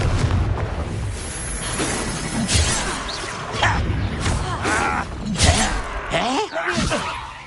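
Confringo fire spell explosion in a Hogwarts video game, a burst of crashing booms and whooshes that rises and falls over several seconds, with spell and combat effects layered on top.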